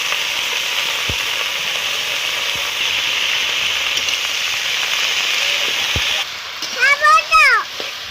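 Bottle gourd greens and eggplant hit cooked masala in a pan, giving a loud continuous sizzle with a few stirring knocks; the sizzle drops away near the end as a voice speaks.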